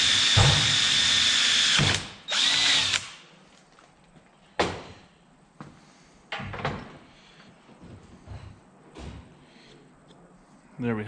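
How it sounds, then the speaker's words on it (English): A drill whirs in two short bursts as the bit runs down through an existing hole in metal on a Ford Capri 2.9 Cosworth, followed by scattered clunks and metallic knocks from handling the work piece. "run the drill bit down through the existing hole"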